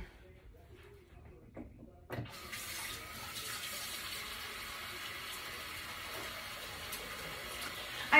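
A kitchen tap turns on and runs steadily as hands are washed under it, a close continuous gush of water after a quiet start with a few faint knocks.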